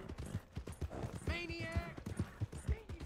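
Steady clip-clop of hooves in a town in Red Dead Redemption 2 with a horse's whinny rising in the middle, while someone talks over it.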